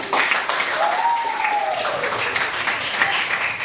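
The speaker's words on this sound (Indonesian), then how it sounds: "Oke, bagus, tepuk tangan." Applause from a classroom audience after pupils present a craft made from bottles, steady clapping throughout with a faint voice sliding in the background.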